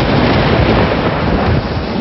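Heavy rain pours down with a deep, continuous thunder rumble, loud and dense throughout with no voices.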